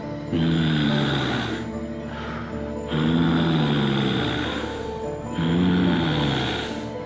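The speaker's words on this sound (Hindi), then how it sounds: "उसको वही सांस की आवाज सुनाई देने लगी" Heavy, slow breathing as a horror-story sound effect, three long rasping inhale-exhale cycles that rise and fade in a steady rhythm, loud and close against a low droning background.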